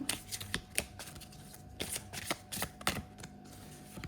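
Oracle cards being shuffled and drawn from a deck, a run of soft crisp riffling slaps and flicks in uneven bursts, close and fairly quiet with no talking.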